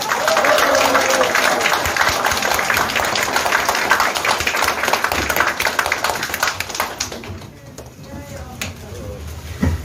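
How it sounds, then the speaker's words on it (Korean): Loud, sustained crowd applause at a Korean party leadership inauguration, dense clapping filling the space, thinning out toward the end. "큰 박수 부탁드립니다."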